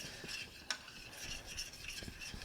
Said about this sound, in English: So I'm going to add my thickening agent to our tomato sauce. Stir that in.